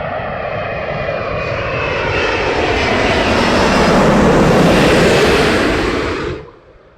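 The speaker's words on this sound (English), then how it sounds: "Emirates A380. Inbound 27 left at London Heathrow on a crisp Sunday afternoon." An Emirates A380 airliner lands on runway 27 left at London Heathrow, its loud engine roar building as it nears, holding close and powerful, then fading away quickly at the end.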